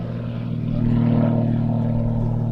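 An Extra aerobatic propeller plane flies at the Little Gransden airshow, a steady loud drone with a strong harmonic hum that swells slightly midway and holds.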